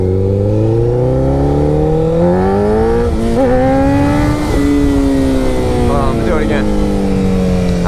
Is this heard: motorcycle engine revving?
yes